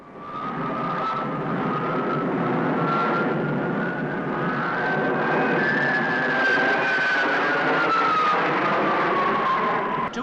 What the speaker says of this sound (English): Two aircraft split away from the remainder as part of a further aerobatic sequence.